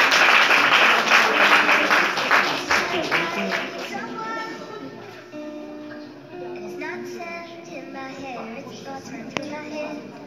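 Audience applause at an awards event for top bloggers, loud and dense at first, then thinning into lighter scattered clapping, with some talk over it.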